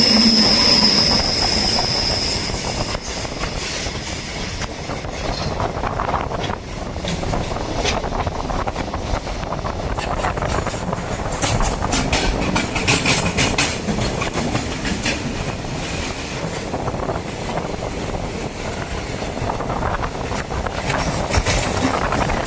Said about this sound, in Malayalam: ഒരു ഫ്രൈറ്റ് വരുന്നതാ